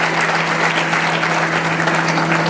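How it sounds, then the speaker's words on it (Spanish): Dense, loud, steady applause from an audience at a municipal report event, cheering a university militarized sports pentathlon team, with a constant hum running beneath. "Fuerte el aplauso para el pentatlón"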